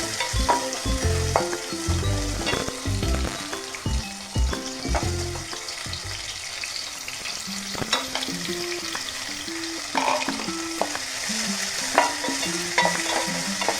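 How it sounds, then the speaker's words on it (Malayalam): Sliced onions and green chillies fry in a pan for a beef dish, a loud continuous sizzle with rhythmic knocks and scrapes of a spoon stirring, close up and without speech. "സവാള ഇട്ട് കൊടുക്കാം."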